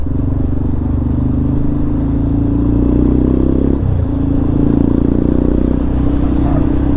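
A Yamaha Lander motorcycle engine drones steadily at close range while riding, with a brief dip and rise in revs midway, accompanied by road and wind rumble.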